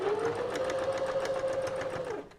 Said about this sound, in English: I'm going to top stitch this now.